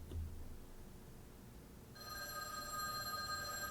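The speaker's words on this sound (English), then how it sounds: "The phone rang." A telephone starts ringing partway through, a bright, steady electronic trill that comes in after a quiet stretch of low hiss and stays fairly faint.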